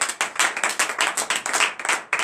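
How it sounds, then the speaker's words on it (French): Close, loud congregation clapping during a morning prayer service, quick rhythmic claps in a steady beat with no speech. "Donne l'acclamation à l'Éternel."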